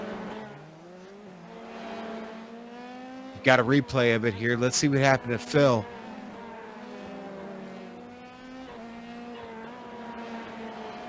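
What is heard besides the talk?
Formula 3 race cars in a racing video game at Zandvoort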